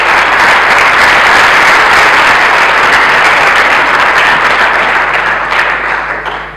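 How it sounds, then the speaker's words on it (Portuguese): A conference audience gives Teresa Martins loud, sustained applause as she is called to the stage, dense clapping that holds steady and then begins to taper off at the end. "Uma salva de palmas para a Teresa."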